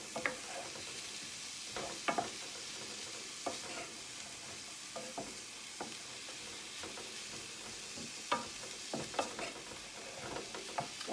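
A pan of pasta sauce with meatballs simmering and being stirred, a low continuous sizzle broken by scraping clicks and knocks of the spoon, close up with no talking.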